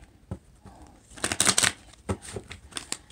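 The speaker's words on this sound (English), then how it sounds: "Give you one more shuffle." A deck of tarot cards being shuffled up close, a quick riffling burst in the middle surrounded by softer taps and flicks.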